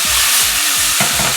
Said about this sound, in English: we've got our shrimp perfectly sauteed